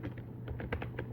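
Computer keyboard keys tapped in a quick, uneven burst of close, crisp clicks while a command is typed for a Python Django web project, with a steady low hum underneath and no talking.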